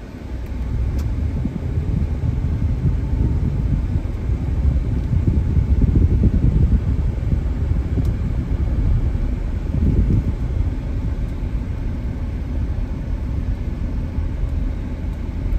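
A 2015 GMC Yukon XL Denali on a test drive: a steady, loud low rumble of engine and road noise from inside the cabin, swelling slightly midway, with no speech.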